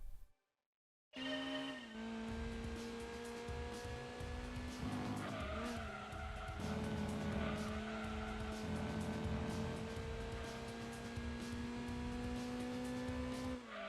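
A rear-wheel-drive race car in Gran Turismo 2 roars steadily, its engine droning as tires squeal and skid through corners, with no talking.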